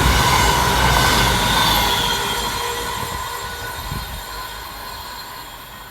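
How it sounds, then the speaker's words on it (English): Two coupled Transport for Wales Class 197 diesel units run fast southbound past a trackside spot, a loud close roar of engine and wheels that slowly fades as they pass, with no voices. "Running fast southbound for Transport for Wales is 197047 and 197014, working 1 Victor 40 from Manchester Piccadilly through to Milford Haven."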